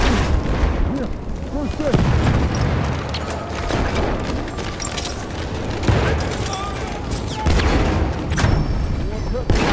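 Grenade blasts and bursts of gunfire from a Battlefield 1 match on Xbox, with repeated booms and rattling shots layered densely throughout and a voice talking over the battle.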